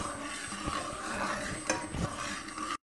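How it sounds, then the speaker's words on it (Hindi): Minced meat keema filling being stirred together with white sauce in a pan for stuffed bread, a steady close scraping and mixing with light sizzle and utensil clinks against the pot, no talking. "फिर मैं आपको मिक्स करके दिखा देती हूँ कि कीमे में व्हाइट सॉस किस तरह मिक्स करना है"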